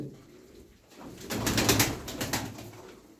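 Arab pigeons with mirror tails coo in a soft, rolling burst that swells in the middle and fades toward the end, close by and with no voices.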